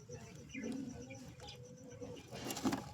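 Pigeons in a breeding coop coo softly and intermittently at close range, with low murmuring calls and faint rustling, building slightly louder toward the end.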